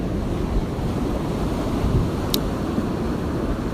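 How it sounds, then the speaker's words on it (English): Ocean surf rolls in as a continuous, heavy roar of breaking waves with low rumbling wash and some wind noise, loud and unbroken with no voices. "waves are very beautiful,"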